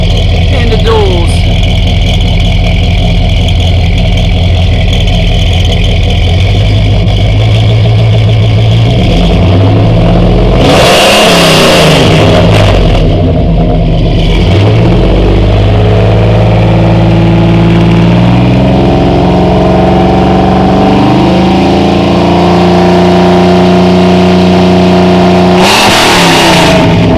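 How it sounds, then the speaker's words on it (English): A GMC truck engine with a dual-into-Y-pipe single Flowmaster 40 series exhaust idles loudly and revs repeatedly in rising and falling surges, heard close up. "This is 2 into a Y pipe into a single 40 series Flowmaster"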